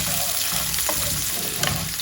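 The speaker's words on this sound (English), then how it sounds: "oil in a pan, and I've got 2 onions that I've thinly sliced. I'm going to cook this until golden" Two thinly sliced onions fry in oil in a pan with a steady, dense sizzle and crackle that stays close and even throughout, with occasional soft stirring scrapes.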